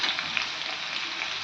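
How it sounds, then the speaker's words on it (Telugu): Crushed garlic frying in a pan gives a steady, close sizzle that runs unbroken through the short stretch, with faint crackles on top and no talking. "ఇప్పుడు ఇందులోకి దంచిన వెల్లుల్లి వేసి కొంచెం ఒక 5-10 మినిట్స్ ఫ్రై చేసుకోవాలి."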